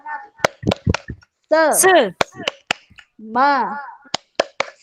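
Sharp rhythmic hand claps of a 'tepuk semangat' cheer at a group facilitation training session, struck in quick patterned bursts between sung and chanted phrases.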